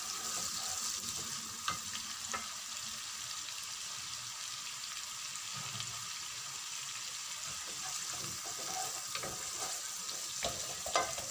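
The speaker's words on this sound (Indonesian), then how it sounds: "Bawang merah. Ini saya tumis dulu ya biar wangi." Shallots sautéing in a pan for a spicy chicken dish, a steady close sizzle with occasional soft clicks of stirring throughout, no voices.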